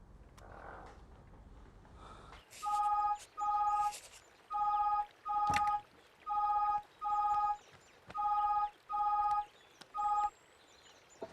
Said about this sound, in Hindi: और उस भोसड़ी वाले दुबे को फोन लगाओ